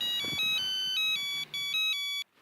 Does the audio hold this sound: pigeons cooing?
no